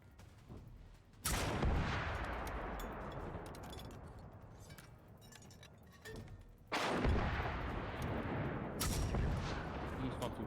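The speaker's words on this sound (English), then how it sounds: "He's gone through 30 rockets." Rockets being fired in the video game Generation Zero, two loud booming launches several seconds apart, each followed by a long rumbling roar that trails off with faint crackles in between.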